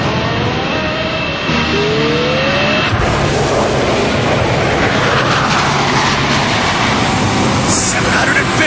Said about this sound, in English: Time to kick in super turbines.